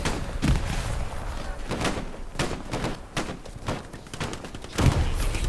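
A rocket explosion on a battlefield in a shooter game: a heavy thud near the start and another near the end, amid a steady run of thumping blasts and distant gunfire, with no talk.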